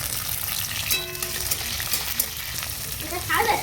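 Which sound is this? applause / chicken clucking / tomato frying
tomato frying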